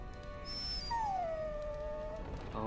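A dog in the Dragon Age video game gives a drawn-out whimpering howl, a single falling whine that trails off after a short high yip, heard clearly against a steady game background.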